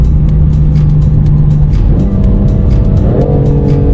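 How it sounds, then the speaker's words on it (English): BMW M4 Competition engine revving loudly from close by, a deep steady drone that climbs in pitch through the upshifts, with no one speaking. "I love hearing that engine come alive."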